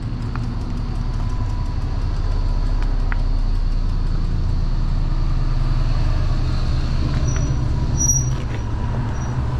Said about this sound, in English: Let this RV get by real fast.